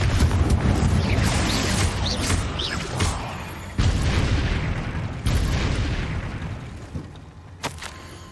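A Confringo blasting spell detonates in Hogwarts Legacy with a loud booming explosion, followed by several further heavy blasts and rumbling bursts over a noisy battle background.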